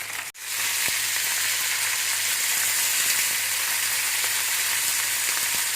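Salmon fillet, skin side down, sizzles loudly and steadily in a hot pan. A short knock comes near the start, then the frying hiss runs unbroken and close.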